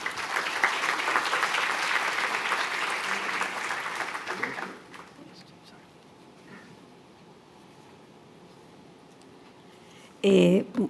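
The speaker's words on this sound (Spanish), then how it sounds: "Recibimos con aplauso a la doctora Teresa Quiroz." An audience at a university law faculty lecture applauds to welcome Dr. Teresa Quiroz. The steady clapping fills the first five seconds, then stops abruptly, leaving a quiet room with a brief noise near the end.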